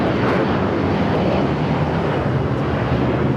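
A United Airlines Boeing 757-300 taking off from the south side of LAX, a loud, dense, continuous roar of jet engines with wind buffeting, close and steady throughout.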